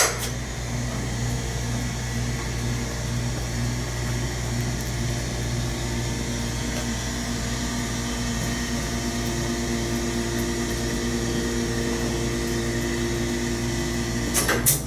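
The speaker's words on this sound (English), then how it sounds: "So yeah, this is a pretty epic elevator here." A 1936 Shepard Home Lift residential elevator runs steadily in a private home, its motor giving a continuous low mechanical hum with a faint whine, unbroken throughout, ending with a couple of small clunks.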